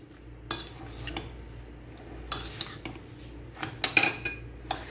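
A spoon clinks and scrapes against a bowl while biryani ingredients are mixed, several sharp metallic taps and scrapes in irregular bursts over a quiet background, close and alone.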